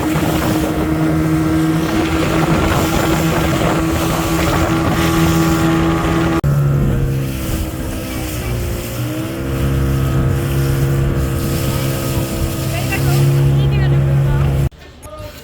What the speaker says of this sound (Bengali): স্পিডবোটে চড়ে মাঝ সমুদ্রে ঘুরে বেড়ানো এত ভালো লাগছিল